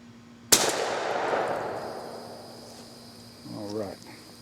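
A single 16 gauge shotgun shot fired outdoors: one loud, sharp crack followed by a long, fading echo, then a voice talks briefly near the end.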